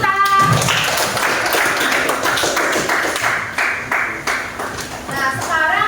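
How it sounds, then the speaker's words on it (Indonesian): Classroom clapping as students applaud a classmate, a scattered burst of handclaps from a small group filling several seconds, with voices and chatter mixed in near the start and end. "beri aplaus dulu untuk Yuta"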